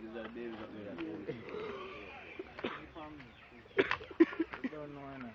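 Chickens on a farm in Jamaica, a few short clucks and squawks close by, heard under and between people talking casually nearby.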